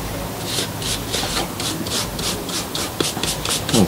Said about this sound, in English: Clean the weld with another applicator brush.